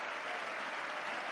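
Canned applause sound effect played on a sports call-in radio show, a dense steady burst of clapping and cheering with no talk over it.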